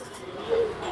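Pigeon of an old breed giving a single soft, low coo, faint and brief against a quiet background.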